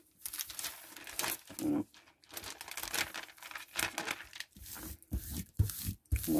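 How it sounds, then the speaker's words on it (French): A glued paper Christmas placemat is peeled off a surface with repeated crinkling and tearing rustles in irregular bursts, close up, with a brief spoken word near the end. "Vous voyez, ça se décolle assez bien."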